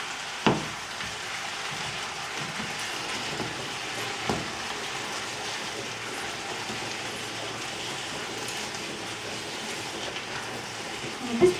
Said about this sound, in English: at this point you just kind of want to stir this around